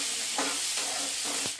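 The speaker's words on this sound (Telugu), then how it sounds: "ఇవి కూడా మంచి గోలాలి నూనెలో." Two large onions sizzling in hot oil in a pan for a kaju masala paneer curry, a steady close hiss with faint crackles and no talking.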